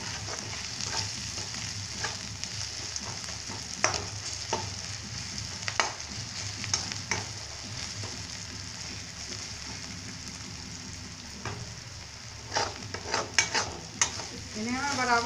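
Onions with a pinch of sugar fry for matar paneer, a continuous close sizzle broken by repeated scraping strokes of a spoon around the pan, with busier clattering toward the end.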